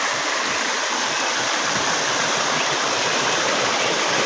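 Stream water flows in a steady, loud, unbroken rush with no other sounds over it.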